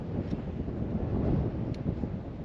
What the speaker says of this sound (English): It's like windy, mate